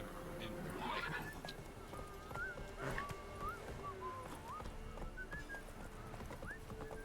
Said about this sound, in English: Se me queda pillado el caballo.